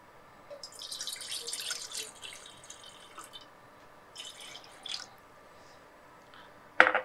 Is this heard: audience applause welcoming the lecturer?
no